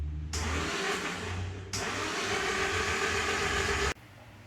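A Datsun 510 with a swapped SR20DET engine runs for the first time since 1992, its loud, close, steady engine drone broken by a couple of abrupt cuts and restarts.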